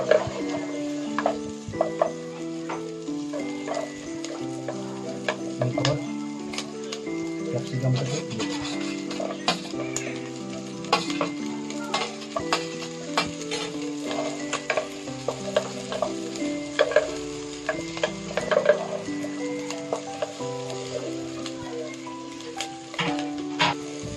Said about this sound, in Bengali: পেঁয়াজটাকে হালকা ফ্রাই করে নেব, বেশি ডিপ ফ্রাই করবো না।